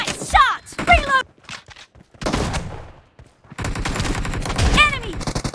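Gunfire from the mobile battle-royale game PUBG Mobile, with bursts of shots and thuds mixed among loud game announcer calls and voice effects, with dips between volleys.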